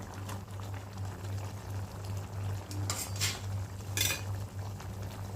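Dried fish, seela karuvadu and anchovy, being stirred into a pot of simmering kulambu curry, with a few faint clinks and scrapes of a spoon against the pot over a low, steady hum.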